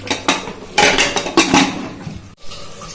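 Metal lid clanking onto a large pressure cooker of braised meat for biryani, several sharp knocks and clinks close by, then a brief settling scrape.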